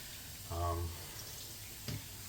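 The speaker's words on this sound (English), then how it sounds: "I will say I gotta give it an extra rinse" A cheap disposable-style razor is rinsed under a running tap in a bathroom sink, giving a steady faint water hiss with a brief louder gush and a small splash near the end.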